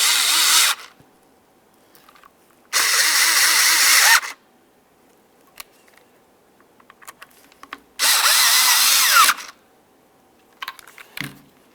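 A power driver tightens screws into an air pump motor from a 2000-2005 Buick LeSabre, firing in three loud whirring bursts with quiet gaps between them and faint clicks of handling.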